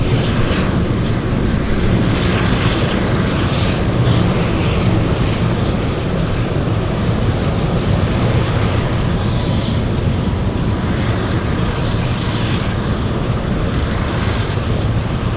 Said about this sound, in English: Next one coming in, we have Northern Air Cargo flying in from Bethel, Alaska, a 737 Classic